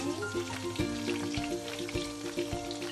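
Garlic frying in olive oil in a hot pan gives a steady, close sizzle that runs the whole time, with soft tonal sounds in the background.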